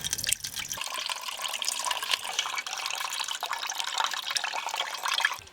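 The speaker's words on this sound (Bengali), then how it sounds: "এবার এটা আমি ছেঁকে নেব, খুব ভালো করে ছেঁকে নেব।" Watermelon juice strained through a kitchen strainer, a steady close pouring and trickling of liquid with faint drips, running continuously without talk.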